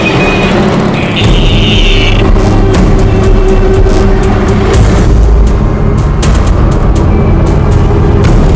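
A police car pulls forward on a busy street with a loud, steady engine and road rumble, brief whines, and passing traffic.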